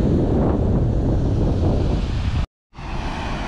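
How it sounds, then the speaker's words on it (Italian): Strong wind and crashing sea waves roar continuously at an abandoned seaside resort, buffeting the microphone, with a brief cut to silence near the end before the wind and surf resume. "Qua il vento e il mare."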